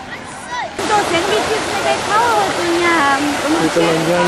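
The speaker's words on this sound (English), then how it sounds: "We're just about to enter Diana, Princess of Wales Memorial Fountain" Water splashes and rushes steadily at the Diana, Princess of Wales Memorial Fountain in a London park, a close, continuous flow with many voices and children's calls over it.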